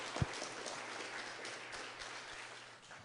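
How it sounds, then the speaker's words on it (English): Audience applause at an origins debate, a steady wash of clapping from a crowd in a hall that holds at an even level for a few seconds before easing slightly. "I want to give everybody a round of applause for them and for everybody that's helped."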